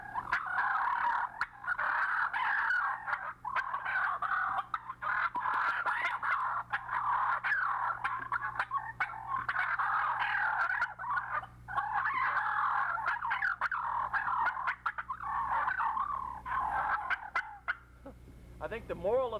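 A hunter's turkey call imitates a gobbler fight, with rapid, excited purring and clucking that runs in long, loud, continuous bursts with brief gaps, heard alone without talk.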